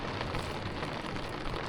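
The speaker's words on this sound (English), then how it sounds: "Puerto Varas in the rain." Rain falls steadily at a campsite in Puerto Varas, Chile, making a dense, even hiss with a soft patter on surfaces, moderately quiet and unbroken by any voices.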